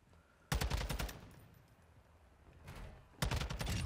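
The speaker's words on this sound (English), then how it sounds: "Somebody else is shooting me." Automatic gunfire in the video game Call of Duty Modern Warfare 2 comes in two loud rapid bursts, one early and one near the end, with fainter distant shots between them.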